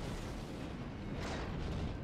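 Distant naval gunfire in the World of Warships game rumbles as a dull, continuous boom at low volume, with a broad wash of noise and no distinct separate shots.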